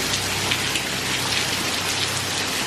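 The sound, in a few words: rain falling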